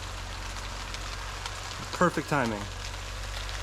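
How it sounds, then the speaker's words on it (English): Heavy rain pours down outside a house under construction, a dense, steady hiss throughout, with a man's short remark partway through. "as I'm coming off the roof, it starts downpouring."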